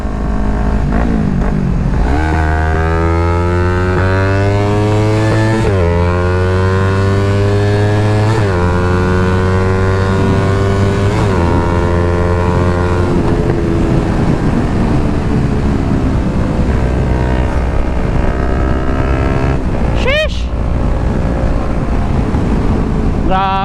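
A Yamaha R3 motorcycle with a new spark plug, air filter and fuel filter accelerates toward top speed, its engine note rising steeply through several gears with brief drops at each shift, loud under heavy wind roar.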